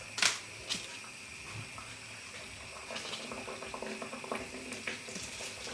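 Steady sizzling and crackling of puff-pastry doughnut dough frying in hot oil over medium heat, with occasional sharper pops and clicks, close up and with no voices.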